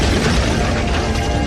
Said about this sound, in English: the solid steel Super Plow disintegrated on impact with the concrete barrier